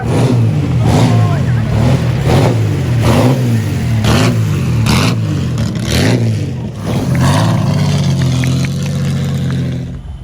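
A VW Golf 2 rally car with rear-wheel drive revs and accelerates hard, its engine loud and close with repeated surging pulls and a steady droning roar throughout, under a busy rally setting.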